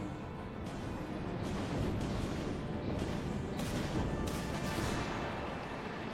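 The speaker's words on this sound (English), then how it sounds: "That is a lot of missiles coming in." Dense, continuous rumbling barrage of explosions and impacts from incoming missiles in a space combat video game, loud and unbroken with bursts layered over a heavy roar.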